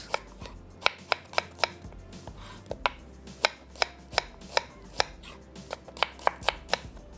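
A chopper machine cuts onion and thick green chilies in roughly twenty sharp, quick clacks at an uneven rhythm, close and clear with no talking.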